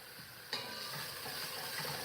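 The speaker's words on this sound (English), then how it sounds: "So we're gonna saute this for like a minute or two." Garlic, onion and vegetables sautéing in a pan, a steady hiss of frying with a brief louder flare of sizzle near the start, close and continuous with no voices.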